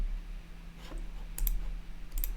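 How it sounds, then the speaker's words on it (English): Several small computer mouse clicks, a soft one early and two crisp pairs later, sit over a steady low electrical hum in a quiet room. "Let's click on start here."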